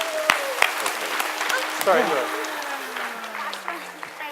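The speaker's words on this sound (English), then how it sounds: "Let's give them a big round of applause." Audience applause at a live science show, a broad clapping wash that swells mid-clip and carries on steadily beneath a presenter's voice.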